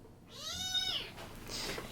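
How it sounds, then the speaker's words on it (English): A kitten gives one clear, rising-and-falling complaining meow, close and fairly loud, followed by a softer breathy sound. "And the one complaining right now is Poe"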